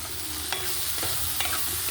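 Vegetables fry in a hot pan being stirred, among them ivy gourd, okra and brinjal, a steady sizzle broken by a few sharp scrapes of the spatula.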